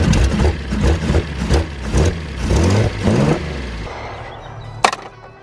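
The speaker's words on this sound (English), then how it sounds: "It does have a race cam, so maybe that is its idle." A Datsun 240Z with a race cam idles low and lumpy, its loping exhaust pulses loud and close, rough and uneven before fading to a softer idle with a sharp click near the end.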